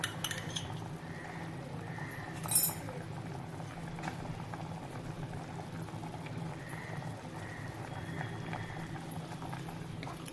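Lima bean rice simmers in a pot over a lowered gas flame, a soft steady bubbling that runs throughout. One brief metallic clink rings out near the start, and the cooking continues quietly without talking.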